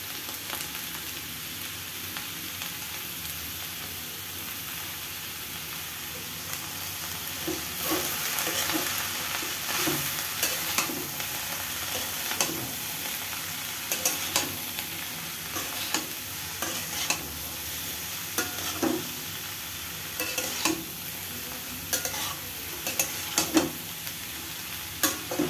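Food frying in a pan with salt and turmeric, a steady bright sizzle running throughout with repeated close scraping strokes of a spatula stirring the pan, growing busier in the second half.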